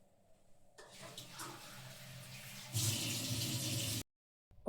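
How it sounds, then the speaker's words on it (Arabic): Water poured from a cup into a kitchen blender jar holding a spiced meat mixture, a close, steady splashing rush that swells louder for over a second before cutting off abruptly. "بصي هحط كوبايه كده ايه من الميه"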